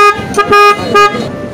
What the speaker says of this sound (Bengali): এখন আমার পপ আপ হর্নটা ইনস্টল করা হচ্ছে।